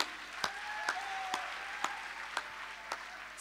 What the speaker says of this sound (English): I think the Ganga deserves a bigger round of applause.